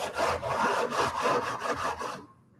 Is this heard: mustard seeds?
no